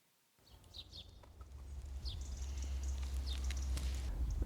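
Small birds chirp outdoors in late sunlight, with scattered high tweets and short calls over a rising, steady low background rumble, moderately distant.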